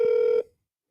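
A single short, steady telephone tone sounds loudly for under half a second and then cuts off into silence.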